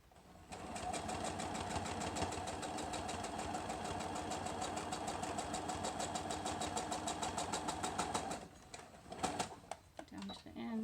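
A sewing machine stitching a fabric face mask, running in one long, rapid, steady whir that cuts off near the end, followed by a few short stop-start bursts of back stitching. A voice is faintly present.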